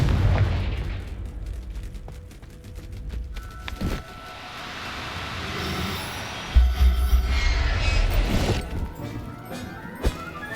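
A Confringo blasting spell goes off in Hogwarts Legacy, with a run of heavy booms and crashing blasts spread across the scene, loud and close, followed by rumbling debris and further sharp impacts.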